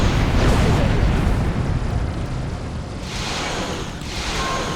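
Starship weapons in the Star Trek Online space game fire continuously in loud, rumbling blasts and booming surges that swell and fade in waves, with a few short lulls between barrages.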